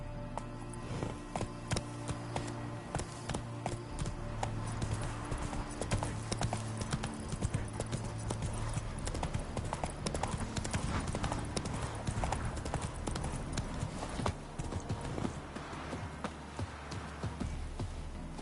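Hooves of Roach, a horse in the video game The Witcher 3, clip-clop in a steady continuous rhythm over a dense game soundtrack and ambience, with occasional faint voices.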